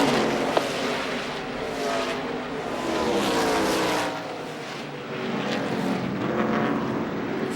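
Race cars in a NASCAR Busch East event at Mohegan Sun in 2007 roar as they accelerate together on a green-flag restart, a loud, sustained engine blare that swells and dips as the pack passes, with no talk over it.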